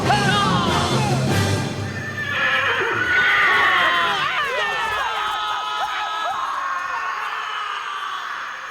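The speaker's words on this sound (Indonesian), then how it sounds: "Biarkan kuda-kuda itu membawa mereka pergi dan kita bersembunyi." Horses whinny loudly in a dramatic ninja scene, several overlapping neighs rising and falling close by, with hoofbeats clip-clopping as they gallop away, the sounds fading over several seconds amid some crowd noise.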